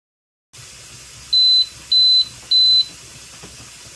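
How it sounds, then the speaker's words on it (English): A pressure canner processing carrots gives three evenly spaced electronic beeps over a constant hiss of venting steam, each tone short, clear and loud above the background. "It beeped 3 times."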